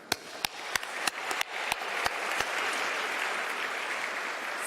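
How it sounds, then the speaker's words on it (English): Audience applause at the ICPC World Finals opening ceremony, starting with a few sharp, separate claps that quickly swell into a full, steady round of clapping. "let's just give a huge round of applause to those people who are putting all their efforts to make"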